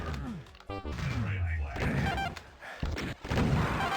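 Rocket explosion in a competitive Doom deathmatch: several booming blasts and crashing impacts in quick succession, loud and close, layered over a busy, chaotic game mix.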